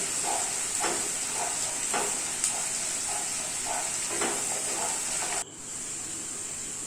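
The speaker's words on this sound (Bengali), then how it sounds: "পেঁয়াজগুলোকে ভালো করে লাল লাল করে ভাজতে হবে।" Chopped onions frying in oil for a chicken curry, a steady bright hiss with regular soft scraping strokes from stirring, and the sizzle dips abruptly near the end.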